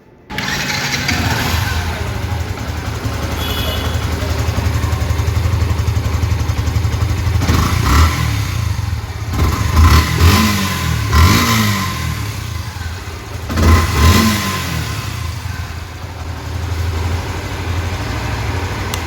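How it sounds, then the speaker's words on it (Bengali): A lightly used second-hand motorcycle with about 3,200 km on it idles with a steady low engine hum, then revs sharply several times in quick bursts before settling back to idle. "এখন আপনাদেরকে ইঞ্জিনের সাউন্ড শোনানো হবে।"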